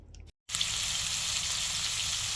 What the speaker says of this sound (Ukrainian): Ось так смажу креветочки 2-3 хвилини з кожної сторони в оливковій олії